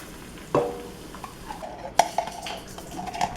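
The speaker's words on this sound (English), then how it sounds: "we're just trying to reconstitute the tomato paste by stirring and bringing the heat up a little bit to medium high" Tomato paste being stirred with water in a cooking pot over medium-high heat: a utensil scrapes and knocks against the pot in a few distinct clinks amid a faint sizzle, close and moderately loud.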